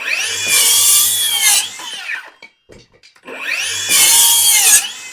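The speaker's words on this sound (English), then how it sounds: "We're going to use the 2904 hammer drill. And we're going to use like a 1 3/8 paddle bit or a 1 1/2 inch paddle bit." A Milwaukee 2904 hammer drill on an 18650-cell replacement battery bores a 1 3/8 or 1 1/2 inch paddle bit through pressure-treated lumber in two loud, close bursts of grinding, whining cutting, separated by a brief pause.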